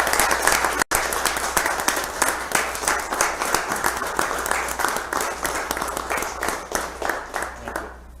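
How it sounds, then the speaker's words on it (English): Applause for a superintendent at a school board meeting: a dense, sustained round of clapping from a room of people, loud and continuous, fading slightly at the end. "One more round of applause for Superintendent"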